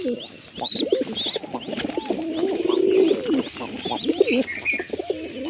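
Wild pigeons coo in soft repeated throaty phrases close by while pecking at wheat, with faint chirps from other birds behind them.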